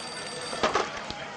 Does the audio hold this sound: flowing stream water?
no